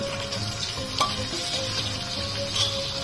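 Fried jackfruit pieces hit hot spiced oil in a pan and sizzle steadily, with a dense continuous frying hiss and light stirring clatter, close and fairly loud throughout.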